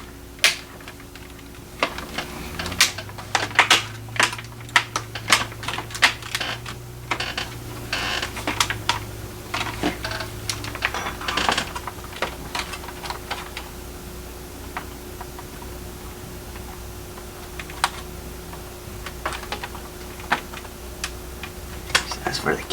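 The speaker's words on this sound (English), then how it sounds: "Snap this all back into place." Plastic casing clips on an old laptop are pressed back into place, giving a long run of sharp, irregular clicks and snaps over a faint steady hum.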